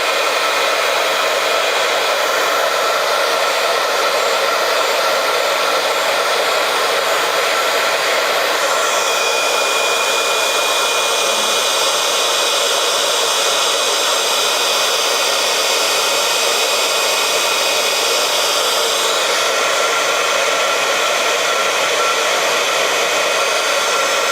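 A heat gun blows steadily and loudly throughout while making a Christmas card, a continuous airy roar with a slight shift in tone partway through, and no voices.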